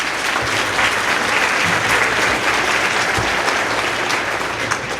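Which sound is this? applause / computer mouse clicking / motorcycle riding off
applause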